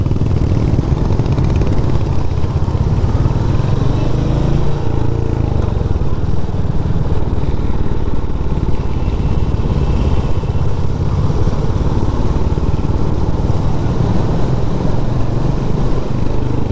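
A Royal Enfield Hunter 350 motorcycle ridden through a ghat road near Lonavala, its engine thumping steadily and loudly throughout with heavy wind rumble and no break.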